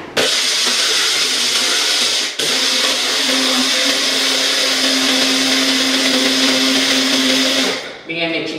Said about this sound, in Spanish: Enchufen la licuadora.